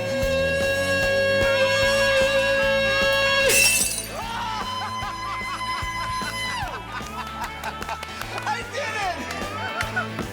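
A glass shatters during an attempt to break it with an opera singer's voice: a sustained sung tone builds, then a sudden bright crash of breaking glass, followed by a crowd cheering and talking.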